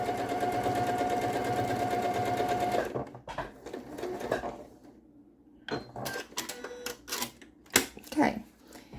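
A sewing machine stitching quilt fabric whirs steadily for about three seconds, then stops, followed by scattered clicks and fabric handling with a voice speaking.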